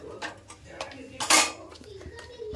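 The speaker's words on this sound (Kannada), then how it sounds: "ರುಚಿಗೆ ತಕ್ಕಷ್ಟು ಉಪ್ಪನ್ನು ಹಾಕ್ತಾ ಇದ್ದೀನಿ ನನಗೆ ಕಲ್ಲು ರೂಢಿ ಸೊ ನಾನು ಕಲ್ಲು ಉಪ್ಪನ್ನೇ ಹಾಕ್ತೀನಿ" Rock salt being added to upma in a cooking pot, with clinks of metal utensils against the pot and one brighter scraping clatter midway, close up under someone talking.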